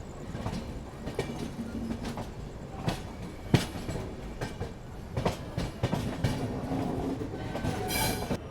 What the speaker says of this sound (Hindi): इस तरफ से कोई तो ट्रेन आ रही है जो विशाखापट्टनम की तरफ जा रही है